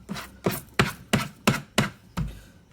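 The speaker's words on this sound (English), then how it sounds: "So chop the onion in half." A kitchen knife chops through an onion on a cutting board in about seven steady, evenly spaced thuds, close and clear, with no voices.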